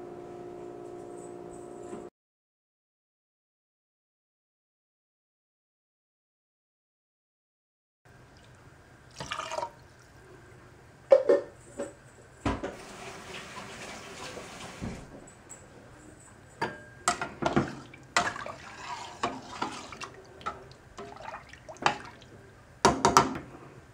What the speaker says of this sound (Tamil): சோ 4 கப் தண்ணி நம்ம சேர்த்துக்கலாம்.